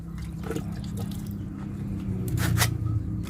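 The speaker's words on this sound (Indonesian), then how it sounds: "Jangan lupa kita siram air apabila sudah sesuai bengkokannya." Water splashes and trickles close by as it is poured over a freshly bent pipe during a stop valve replacement, with a few wet bursts of pouring over a low humming background.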